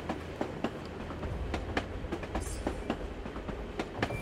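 Train riding in the video game Assassin's Creed Chronicles Russia: a steady rumbling rail car with rhythmic clickety-clack wheel beats repeating throughout, moderately close, with a brief high squeal partway through and no talking.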